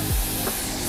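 Injector cleaner sprayed into a fuel injector of a Jeep JK in a workshop: one short, close hiss at the start, then a faint second puff.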